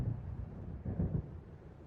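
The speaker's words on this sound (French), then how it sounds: "On dirait qu'un orage approche." A thunderstorm approaching over the sea in the video game Alan Wake Remastered: a low, rolling rumble of distant thunder that swells briefly near the middle, heard alone over a steady windy background.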